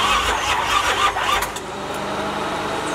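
A Chevy box car's engine cranks and rumbles close by, a rough mid-pitched roar that settles into a steady idle.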